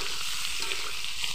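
Boiled potatoes fry with chopped onions in hot oil, a steady dense sizzle that fills the short stretch evenly, close and continuous with no voices.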